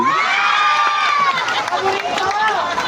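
An audience cheers and shouts in a dense, steady roar with raised voices over scattered clapping, loud and close throughout.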